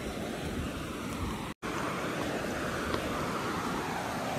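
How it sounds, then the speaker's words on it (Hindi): Loud, constant roar of a fast-flowing river near Chukum village, Jim Corbett, broadband and unbroken apart from a momentary gap, with some wind buffeting. "पानी का फ्लो अच्छा खासा बढ़ गया यार।"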